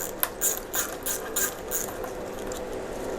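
A ratchet wrench snugs up nuts on a classic Fiat 500 engine during a rebuild, a close series of rapid clicking bursts in an uneven rhythm, then a quieter steady background.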